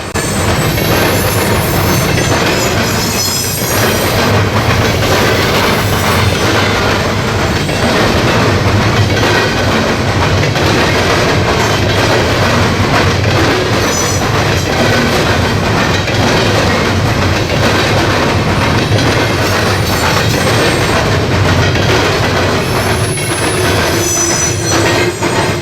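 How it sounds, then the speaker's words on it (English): Norfolk Southern freight train led by rebuilt AC4400 engine 4000, in a special commemorative paint scheme, rolls steadily past at close range, loud and continuous with rumbling wheels, clacking joints and high wheel squeal throughout. "train, with NS engine number 4000 leading the way."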